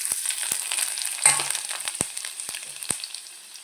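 Garlic cloves fry in hot oil for tomato chutney, a steady close sizzle broken by sharp crackling pops scattered throughout.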